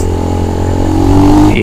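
Kawasaki KLX 150 dirt bike on a road with other motorcycles, its engine droning loud and close as it revs up briefly to overtake a car.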